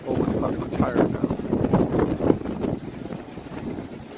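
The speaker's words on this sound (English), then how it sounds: "Pardon the wind." Steady wind buffets the microphone aboard the Celebrity Edge cruise ship departing Cozumel, Mexico, a loud rough rumble with gusting swells throughout, no voices over it.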